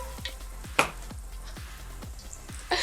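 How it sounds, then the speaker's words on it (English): A spice blend of coriander, fennel and rosemary is stirred in a hot pan. Low sizzling runs under repeated scraping strokes of a utensil, with a couple of sharper clinks, close up. "I'm gonna go ahead to stir this till you can perceive the delicious aroma."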